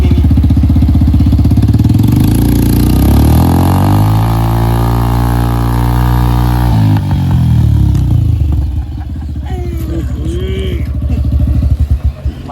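Suzuki Gixxer motorcycle engine revving loudly up close while riding off-road through mud, with a rising and falling engine tone that rises and then drops off, followed by clattering and a few sharp bursts near the end.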